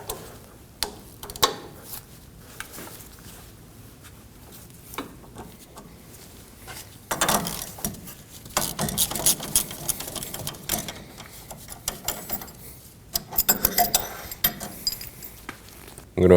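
Inner tie rod on a 2015-2022 Chevrolet Colorado being snugged down with an inner tie rod tool: scattered small metallic ticks and clicks, with louder bursts of ratcheting and clanking toward the end, close by and without talk.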